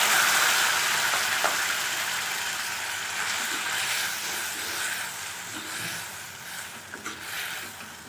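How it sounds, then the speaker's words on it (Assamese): Maggi noodles boiling in a pot while being cooked into a fried noodle dish, heard as a loud, continuous close hiss and bubbling that eases slightly toward the end. "মেগীখিনি উতলি আছে।"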